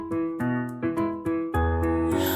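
An AI-generated children's nursery rhyme song plays back slowly in the CapCut editor, with a steady beat and bright repeated chords and melody over a low bass, short and clear.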